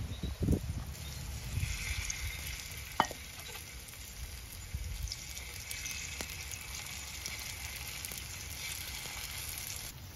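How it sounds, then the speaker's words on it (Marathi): Cucumber thalipeeth roasting in a pan set directly over wood-stove embers, giving a steady, soft sizzle and crackle with faint scraping stirs, close and continuous, with no talking. "फक्त विस्तू आहे खाली, विस्तवावरतीच मी भाजते."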